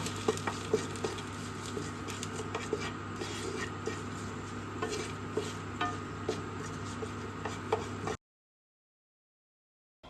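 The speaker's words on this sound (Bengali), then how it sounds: "প্রথমে কড়াইতে ঘি, সর্ষে, শুকনো লঙ্কা, ইলাইচি দিয়ে ভালো করে নেড়ে চেড়ে নেব" Ghee, mustard seeds, dried chillies and cardamom are stirred in a wok for pineapple chutney, giving faint, irregular scraping taps over a low hum before the sound cuts to silence.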